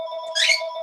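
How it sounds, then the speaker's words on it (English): A mobile phone ringtone sounding during a talk, a steady electronic melody with a brighter burst in the middle of the short ring, heard alone and fairly loud. "Oh, that's my phone."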